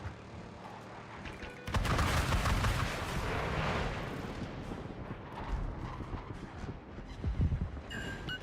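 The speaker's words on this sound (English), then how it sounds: "Missile directly on target." Missile striking a target in a naval combat video game, a sudden loud blast followed by a long rumbling roar that slowly fades, with further muffled booms near the end.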